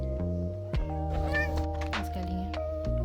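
A cat meows a few times at close range, with strained, wavering cries over a steady tonal background hum; someone speaks briefly in between.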